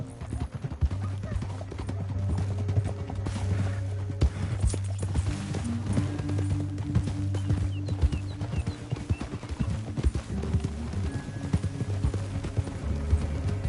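Steady clip-clop of galloping horses in Red Dead Redemption 2, a dense drumming of hooves throughout, with low rumbling background and occasional faint voices.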